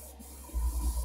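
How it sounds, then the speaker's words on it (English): An airbrush gives a short test spray of mixed paint for a stealth effect on a Sith Infiltrator model, a soft hiss that swells into breathy bursts partway through, close and quiet. "Test my spray."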